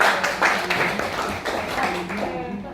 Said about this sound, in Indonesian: Tepuk tangan dulu buat Ibu.